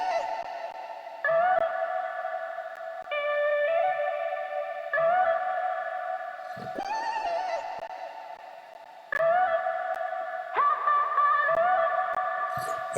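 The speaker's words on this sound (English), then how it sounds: "one thing that I like to put onto my vocal chops just to give it a lot more space on the beat is to drench it out in reverb and delay" Chopped vocal samples drenched in ping-pong delay and reverb sit on a beat, repeating short sung phrases in a steady rhythm with long echoing tails that bounce and fade into a distant, dreamy wash.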